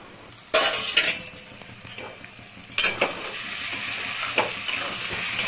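Potatoes and spice masala for aloo paneer cooking on a low gas flame in a pan with water added, with a soft background sizzle broken by sharp clatters of a lid and utensil against the pan.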